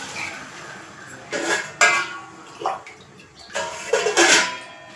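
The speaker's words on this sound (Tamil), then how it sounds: "இப்போ இதில் ஒரு சொம்புக்கு தண்ணி ஊற்றிக்கிறேன்." Water poured from a small vessel into a cooking pot in a home kitchen, coming in several short splashing pours with a faint clink of metal between them, with no talking.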